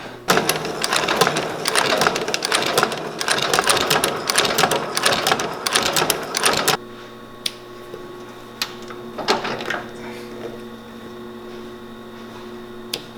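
A sewing machine stitching boots runs in a fast, steady mechanical clatter for several seconds, then stops, leaving a low hum with a few faint clicks.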